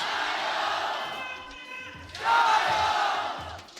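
A large esports arena crowd at VCT Masters Shanghai roars and cheers during a Valorant match, a dense sustained wash of voices that swells louder partway through, with shouts rising above the din.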